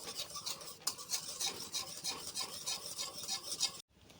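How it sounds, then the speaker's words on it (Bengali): Milk powder stirred into milk in a pot for making sweet curd, a steady rasping, scraping stir that runs continuously at close range, then stops abruptly near the end. "এবার দুধের মধ্যে দিয়ে গুঁড়ো দুধটা খুব ভালো করে মিশিয়ে নেব"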